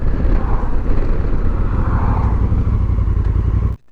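A motorcycle fitted with a full titanium SC-Project exhaust rides into a parking lot, a loud, close, continuous rumbling burble that holds steady, then cuts off abruptly near the end.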